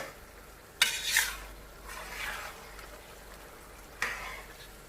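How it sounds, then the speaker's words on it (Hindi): A baingan bharta mixture being stirred in a pan, with a few scraping, clattering spoon strokes over a soft sizzle and quiet gaps between them. "एक मिनट हिलाएंगे इसे अच्छी तरह से"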